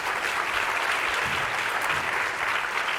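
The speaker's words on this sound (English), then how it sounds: "One more round of applause for Danielle," Audience at an academic appreciation event applauding a speaker named Danielle, a steady, moderately loud round of clapping filling the room throughout.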